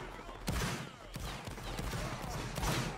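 Scattered musket volleys in a Napoleonic Wars video game battle, several sharp cracks and rolling bursts at moderate distance, fairly faint, with a voice talking over the gunfire.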